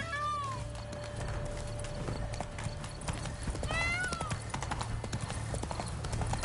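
Horse hooves clip-clopping in the Witcher 3 video game, a steady run of hoof beats under game ambience and bursts of music, with faint background voices.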